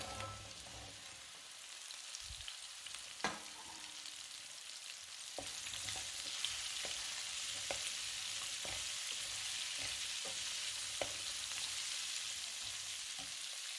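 Okra pieces fry in a pan for an okra and baby corn fry with a continuous hissing sizzle, punctuated by occasional spatula taps and stirs throughout.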